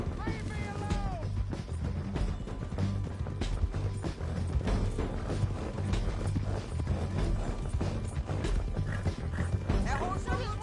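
Horse hooves in the video game Red Dead Redemption 2, a steady clip-clop with creaking tack and mechanical clatter, going on under shouting voices.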